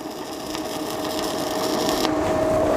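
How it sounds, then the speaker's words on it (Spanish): A mini inverter welding machine arc welding thin sheet metal at higher amperage, giving a steady, continuous crackling hiss with a faint tonal hum, close and unbroken throughout. "Ya podemos con este amperaje soldar pues láminas muy finitas"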